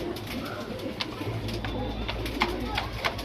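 A male Rakdar pigeon cooing, soft low repeated coos close by under a faint steady background hum, with small bursts of rustling and clicks.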